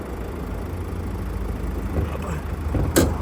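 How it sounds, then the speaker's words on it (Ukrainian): A 2019 Mazda CX-5 2.2 diesel engine idles under the open hood, a steady low rumble running throughout at close range, with a brief louder noise near the end. "Ось так працює двигун, під капотиком, бачите."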